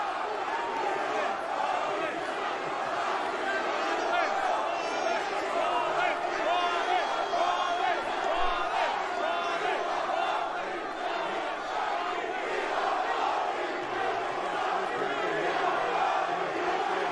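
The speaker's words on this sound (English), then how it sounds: "Trying to feel the crowd. It's definitely a mixed crowd." Wrestling fans in a large arena crowd at the WrestleMania XL kickoff press conference keep up a steady, dense roar of chanting and shouting for the full stretch, loud and continuous with no single voice standing out.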